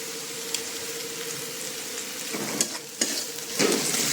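Onions frying with salt in a pan give a steady, close sizzle, with a few louder scraping stirs toward the end and no voices.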